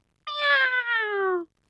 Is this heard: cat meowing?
yes